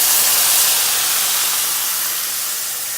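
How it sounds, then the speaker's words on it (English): Steamed tofu fries with onion and peppers in butter and oil, giving off a loud, steady hissing sizzle that eases off slightly toward the end. "We just fry it for 1 minute,"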